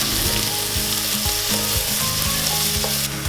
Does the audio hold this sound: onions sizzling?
yes